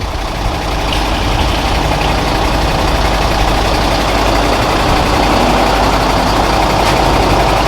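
A 2019 Fuso six-wheel dump truck with a 170-horsepower diesel engine idles loudly and steadily at close range, a dense low rumble that stays even throughout with no voices.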